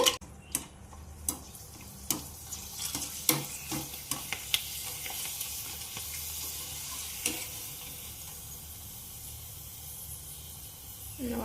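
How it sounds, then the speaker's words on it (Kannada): Sun-dried sandige snacks dropped into hot oil at home, a series of sharp clicks and knocks at the start as pieces go in, then a softer continuous sizzle and bubbling that settles into a steady fry. "ಈಗ ಎಣ್ಣೆ ಕಾದೈತಿ. ಈಗ ಶಾಂಡ್ಗೆ ಹಾಕೊಳ್ಳೋಣ."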